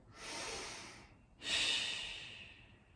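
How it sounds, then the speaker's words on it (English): Two deep breaths taken while holding a Pilates stretch, each a soft, airy rush of air close by, the second a little stronger, heard alone and fairly quiet. "Holding for 2 deep breaths here."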